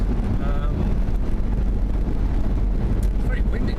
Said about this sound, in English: It's very windy today, it just blew me off the road there.